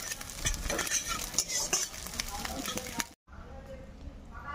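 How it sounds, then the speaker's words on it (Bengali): A scrambled egg fries in hot oil in a wok, crackling loudly while a utensil scrapes and stirs in quick strokes. The sound breaks off briefly, then a softer sizzle resumes. "ডিমগুলি এভাবে ভেজে নেব।"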